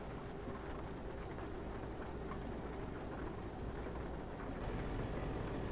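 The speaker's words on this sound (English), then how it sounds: "It's raining." Rain in the Euro Truck Simulator 2 video game makes a steady, dense hiss that stays loud and unbroken throughout, with a low rumble underneath and no voices.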